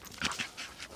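Rapid, breathy Siberian Husky panting up close, a quick rhythmic series of huffs over about a second.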